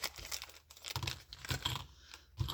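Sturdy plastic packaging bags for scrapbooking keepsakes being torn and crinkled open, a close, quiet run of short ripping and crackling bursts with no talking.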